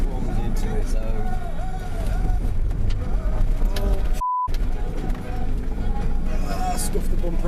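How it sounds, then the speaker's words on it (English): A Mercedes crawls down a rough forest track, its engine a low, continuous rumble heard under someone talking almost the whole time. "This is where the Mercedes steer rack crawls into its own."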